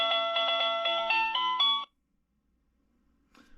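An eMarcos driveway sensor receiver plays a bright electronic alert chime, a short series of melodic tones, then stops, leaving near silence with a faint noise at the end.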